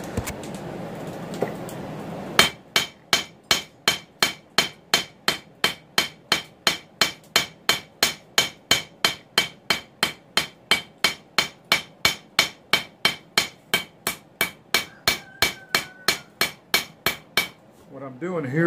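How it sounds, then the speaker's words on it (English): Steady, evenly spaced hammer blows on hot mild steel during forging of a frying pan handle, loud and close, around forty strikes in a rapid regular rhythm after a quiet opening. "cleaning up the hammer marks"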